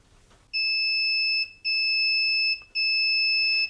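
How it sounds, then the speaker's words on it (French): An intermittent electronic alarm tone, produced by an NE555 timer circuit driving a loudspeaker, sounds as three long, loud, piercing beeps of equal pitch separated by brief gaps, with no talking. "pour obtenir une sonnerie intermittente, on va utiliser un NE555 pour le cadencer"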